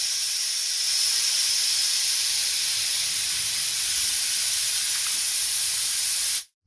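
A Lokithor JP400 compact jump starter's built-in air compressor pumps a Jeep tire back up from zero, a steady loud airy hiss and whir running unbroken for about six seconds before cutting off abruptly.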